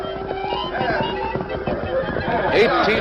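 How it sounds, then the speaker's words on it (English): Palomino horses whinny and neigh among cowboys in a range basin at night, shrill cries rising over hoof clip-clops and a busy background, with a voice speaking in a dramatized scene. "cowpunchers discovered they couldn't control their Palomino horses"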